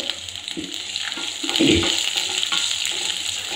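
Sprouted fenugreek (methi) seeds fry in a pan for poppu, giving a steady close sizzle with a few scraping stirs and no talking.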